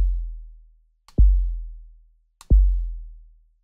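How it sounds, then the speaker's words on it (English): Two deep, booming sine-wave kick drum hits synthesized in SuperCollider, about a second and a half apart, each a sharp thump with a long low decay, nothing else in between. "It sounds like a good kick drum."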